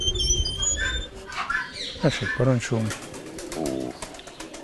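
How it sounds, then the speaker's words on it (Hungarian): Pigeons in a loft coo and flutter close by, mixed with chirps from other birds, while people talk over them throughout. "Itt vannak a galambok."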